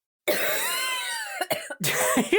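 A loud, harsh rasping cough close by, followed by a couple of shorter rough coughs and throat noises.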